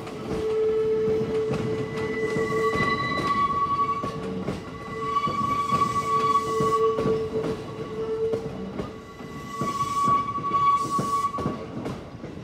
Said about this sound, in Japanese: 造血車が土浦駅に向けて